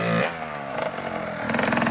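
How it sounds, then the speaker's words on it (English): A dirt bike engine revving on a muddy slope, a rising buzzy snarl that climbs in pitch, dips, then surges again in quick bursts, close and loud. "Get it revved up and don't let off the gas so fast."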